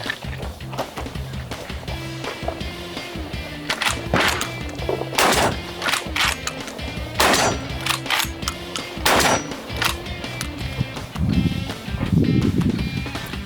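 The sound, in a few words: shotgun firing buckshot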